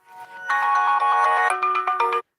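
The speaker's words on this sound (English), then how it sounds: "Sorry, that was my alarm." A phone alarm plays a bright electronic melody loudly for about two seconds, then cuts off abruptly.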